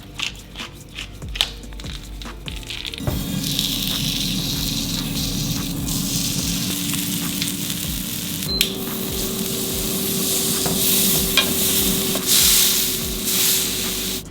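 Filet mignon sizzles in a hot pan, a steady frying hiss that swells after an initial few seconds of clattering and then holds continuously, fairly close and alone without talk.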